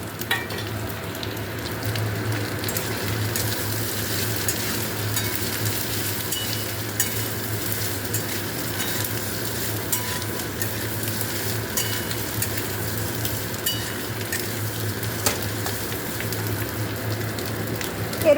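Potatoes with cashews and raisins frying in a pan, a dense, even sizzle running continuously with faint stirring, close and fairly loud, no voices.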